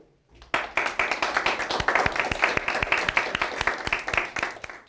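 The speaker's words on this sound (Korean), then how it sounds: "뜨거운 환영의 박수 속에" Students at a school gathering give a warm round of applause to welcome an elderly former student soldier, steady rhythmic clapping from many hands that starts abruptly and keeps an even beat throughout.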